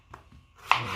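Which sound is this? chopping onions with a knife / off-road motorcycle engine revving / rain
chopping onions with a knife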